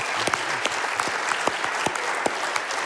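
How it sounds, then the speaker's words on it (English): A room of people claps in a steady round of applause at a Mesa morning live event, scattered sharp claps over a continuous crowd patter, fairly close and without speech. "he deserves a round of applause for that"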